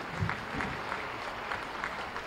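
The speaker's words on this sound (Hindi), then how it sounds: "मोबाइल को विश्राम दें, हाथों को बाहर निकालें और जोरदार तालियां बजाएं" An audience claps together at a state inauguration ceremony for Uttar Pradesh Day, a dense, continuous patter of applause with slight surges, heard from a moderate distance.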